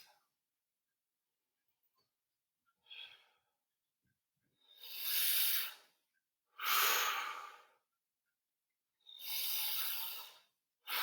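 Slow, deep breaths during a yoga stretch, about four drawn-out inhales and exhales a few seconds apart, close and breathy with quiet pauses between.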